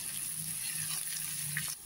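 Curry leaves fry in hot oil for a hog plum curry, giving a steady close hiss and sizzle that runs unbroken for nearly two seconds, then cuts off abruptly at the end.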